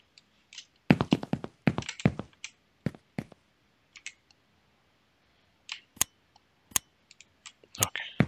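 Sharp, dry computer mouse clicks in a game editor, scattered singly and in quick bursts with short quiet gaps between, close and crisp.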